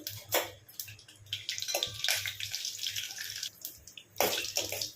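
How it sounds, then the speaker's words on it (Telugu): Cumin, mustard seeds and three dried red chillies sizzle and crackle in hot oil for a Telugu tomato rasam, a steady hissing fry with occasional louder pops, fairly close and with no talking. "ఎండుమిర్చి, ఆవాలు, జీలకర్ర అయితే ఫ్రై అయింది కదా"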